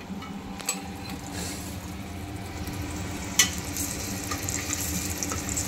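Eggs frying in a pan for egg biryani give a steady, close sizzle and crackle throughout, with a few sharp clinks of a utensil against the pan and no talking.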